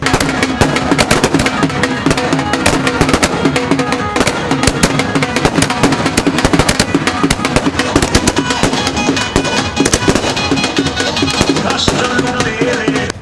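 Dense, rapid crackling and popping of fireworks going off nonstop at a political election victory celebration, loud and close, with faint crowd noise beneath.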